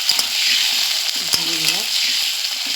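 Potatoes fry in hot oil in a pan with a bright, constant sizzle close by, broken by a few brief clinks of a utensil.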